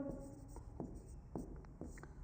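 Chalk or marker writing on a board during a classroom lecture, with quiet scratchy strokes that come in short separate bursts at an uneven rhythm.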